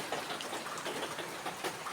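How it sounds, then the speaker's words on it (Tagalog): Heavy pre-dawn rain falling outside a house with a flooded kitchen, a steady, hissing broadband downpour heard at moderate distance. "Ang lakas ng ulan, guys."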